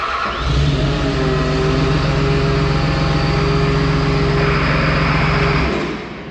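The diesel engine of an abandoned ex-military John Deere 850J bulldozer cranks and rumbles into a steady, loud idle with a low throbbing drone, close by, before cutting off.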